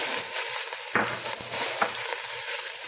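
Meat dropped into a pan of reddened, sautéed onions: a steady, close sizzle with a few scattered stirring scrapes and knocks, no voices.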